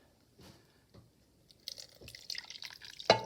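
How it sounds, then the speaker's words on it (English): Vinegar water from soaked paper is poured into a pot for steaming eco-dye prints, beginning with a few soft drips and building into a splashy, trickling pour that ends in a brief louder splash, close by. "I'm just going to pour some of that vinegar water that I soaked paper in"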